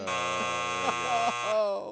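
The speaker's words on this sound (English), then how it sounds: "And hit the buzzer." A quiz show buzzer sounds as one loud, continuous electronic tone lasting about two seconds, with a voice briefly heard over it.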